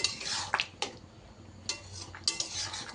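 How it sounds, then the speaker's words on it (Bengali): Poppy seed paste goes into a pan of simmering curry, with a few clinks of a spoon or utensil against the pan and soft scraping in between, close and fairly quiet with no talking. "এবার পোস্ত বাটাটা দিয়ে দিলাম"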